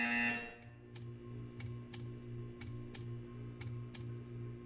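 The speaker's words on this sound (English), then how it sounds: "You will hear a buzzer." A brief harsh buzzer sounds in a Portal 2 test chamber, followed by a steady series of faint mechanical ticks over a low ambient hum.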